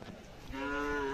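A Khillar cow mooing at a cattle show, one drawn-out, harmonic moo that starts midway and holds to the end, close and clear above faint crowd noise.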